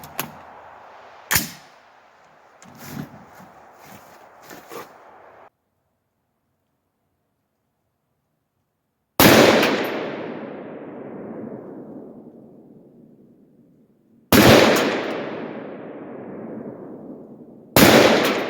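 An AR-10 rifle chambered in .308 fires with a Sharp Bros Badlands muzzle brake: a few loud cracks, each followed by a long ringing decay, with gaps of several seconds between shots and some mechanical clatter early on.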